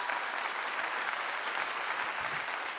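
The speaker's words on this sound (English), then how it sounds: "I give you a clap for that" Steady, dense applause from a crowd, broadband and continuous, at a moderate level throughout with no pauses.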